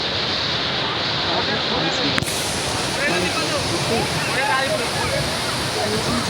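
A loud, constant rush of falling water from Bogatha Waterfall in Telangana fills the clip, close and unbroken, with faint voices blended into the roar.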